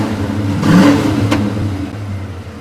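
The engine of a 1993 limited-edition Ford Mustang LX revs once, rising to a brief peak and then settling back into a steady idle rumble, loud and close, with no talk over it.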